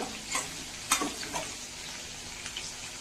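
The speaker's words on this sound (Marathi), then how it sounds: "मिरची आता परतली गेली म्हणजे तळली गेली मिरची." Green chillies with salt frying in a pan, a soft, steady sizzle broken by a few stirring scrapes and light clicks at moderate distance, with no talking.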